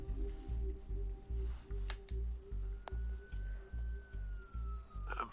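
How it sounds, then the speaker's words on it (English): Police car sirens wail in a video game, a steady rising tone over a loud low rhythmic pulse that repeats about every half second. "There are quite a few police cars convening on your location."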